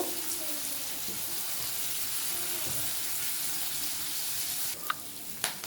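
Onion and chopped green chilli frying in oil with a spoonful of Bengali five-spice, a steady close sizzle running throughout with a couple of sharp clinks near the end.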